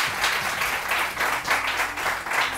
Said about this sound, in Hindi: तालियां भाई।